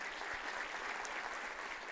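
A crowd at a community honoring event in Virginia applauds with steady, even clapping that sounds somewhat distant and soft, running without a break for a couple of seconds.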